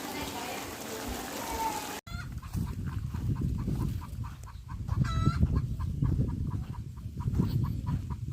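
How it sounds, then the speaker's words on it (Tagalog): Hens and a rooster cluck repeatedly on a farm, the rhythmic clucks coming close and clear after a short burst of other noise, with some talk mixed in. "Parang may nangingitlog dyan pag ganyan."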